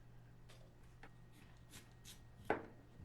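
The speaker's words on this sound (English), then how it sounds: "you're going to chop everything into bite-sized pieces. We're only going to use half of this onion" An onion is chopped into bite-sized pieces on a board, a few faint, scattered knife taps with one sharper, louder chop near the end over a quiet low hum.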